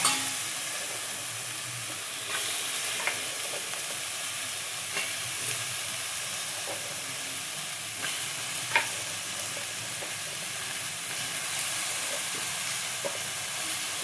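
Capsicum pieces sizzle and fry in a pan for a tomato masala curry, a steady hiss with occasional stirring clicks and scrapes, close and continuous with no voices.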